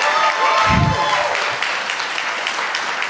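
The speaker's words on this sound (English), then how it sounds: "None of you listened to my plea for holding your applause." Audience at a televised congressional district debate breaks into sustained applause, a dense wash of many clapping hands that stays steady throughout, with a brief voice near the start.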